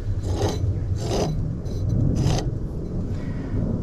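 A worn, one-piece air conditioning compressor and clutch from a 2008 Smart Fortwo 451 turned by hand, giving loud, close, coarse grinding rasps in three or four separate strokes with a rough, gritty texture.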